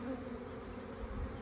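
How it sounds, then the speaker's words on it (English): Honey bees swarming on the lid of a hive box as nucleus colonies are moved into it, giving a faint, steady, low droning hum that runs continuously with no talk. "And look at all the bees on the lid."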